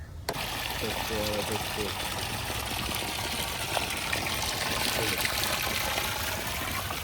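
Water flows in with a steady trickling, gushing wash and a faint pump-like hum, with a few soft voices heard briefly in the background.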